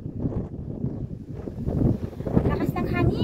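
Strong wind buffets the microphone in steady, rough gusts on a hiking trail in Hong Kong, building louder toward the end, with faint rustling outdoors.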